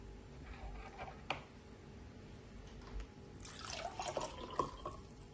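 Soaking water being drained off half a cup of rice, heard as faint dripping and trickling water with a fuller splashing pour near the end, quiet and without talk.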